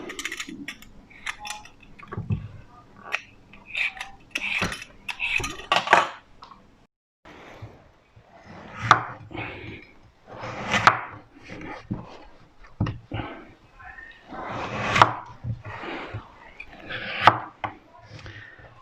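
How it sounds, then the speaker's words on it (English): Repeated short scraping strokes of a peeler working around a raw potato being prepared for chips, close up in a kitchen, with occasional light clatter between strokes. "So first you peel the potato."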